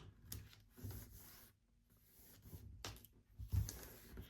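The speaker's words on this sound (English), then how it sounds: "you just want to scrape the vinyl or the tape on top of the vinyl" A scraper tool rubs transfer tape down onto craft vinyl, giving soft, close scratchy strokes in short bursts separated by brief pauses.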